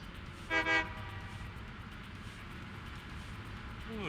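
A freight train in the video game Satisfactory, with a short two-part horn toot near the start, then a steady low rumble of the running train throughout.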